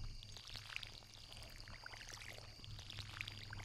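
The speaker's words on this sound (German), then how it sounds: "dann gieße ich jetzt hier gerade erstmal den Kram noch" A watering can pours over crops in the farming game Stardew Valley, giving a soft, continuous trickle with light splashing droplets and no talk.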